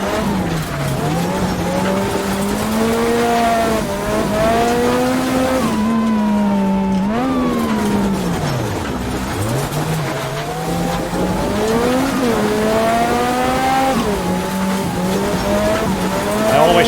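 Lancia Delta S4 Group B rally car climbing the Transfagarasan mountain road, its engine loud and close, rising and falling in pitch through gear changes with tire squeal through the bends, steady with no talk.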